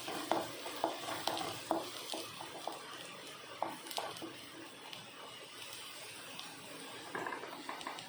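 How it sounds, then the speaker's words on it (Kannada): Green chillies fry in a pan with a steady sizzle, broken by repeated scraping and stirring clatters from a spoon against the pan, moderately loud throughout. "ಈಗ ಇದಕ್ಕೆ ಕಾಯಿ ಮೆಣಸು ಹಾಕ್ತಿದ್ದೇನೆ ನೋಡಿ. ಕಾಯಿ ಮೆಣಸು ಅಷ್ಟೇನು ಫ್ರೈ ಆಗಬೇಕಂತಿಲ್ಲ, ಸ್ವಲ್ಪ ಫ್ರೈ ಆದರೆ ಸಾಕು."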